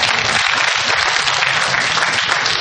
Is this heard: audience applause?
yes